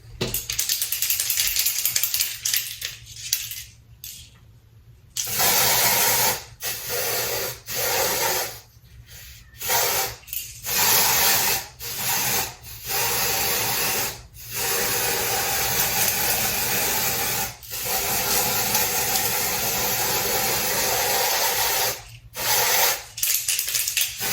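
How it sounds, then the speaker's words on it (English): Repeated bursts of hissing aerosol lace spray, loud and close, some long and some short, separated by brief silent gaps. "I'm finna put my Ebon Tinted Lace Spray on"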